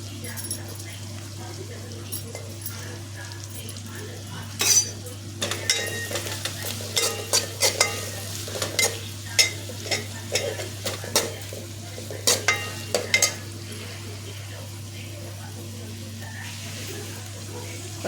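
Green chillies sizzle in a pan with cooked onion, coriander, fenugreek and mint, stirred with irregular scraping clatters of a utensil over a constant frying hiss and low hum.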